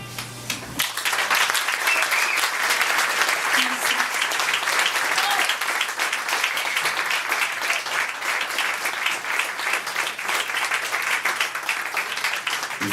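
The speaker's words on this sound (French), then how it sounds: "Violaine Forêt. On l'applaudit encore une fois." An audience applauds the poet Violaine Forest at a third-anniversary evening event, dense sustained clapping that starts abruptly and fills the room steadily throughout, close and loud.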